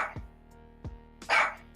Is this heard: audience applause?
no